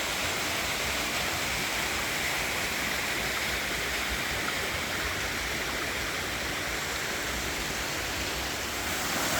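A constant, powerful roar of a waterfall falling from a bluff, broad and unbroken throughout, with no voices.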